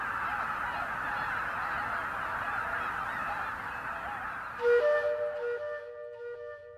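A goose honks at Lake Miyajima in Hokkaido, Japan, over a steady rushing outdoor background, giving a few loud, clear calls near the end, close by, with no talking.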